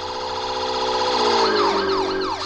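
A loud wailing siren holds steady, then its pitch drops and swoops as it passes close by, the wail sliding lower on the way out.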